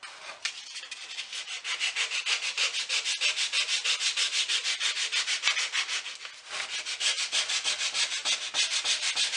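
Steady rhythmic scratching of sandpaper rubbed back and forth by hand over a quarter sawn oak plant stand, close and continuous with a brief pause midway.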